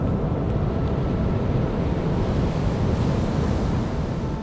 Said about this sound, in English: There's also a lot of those sleeper waves that you see that just keep coming and coming and coming.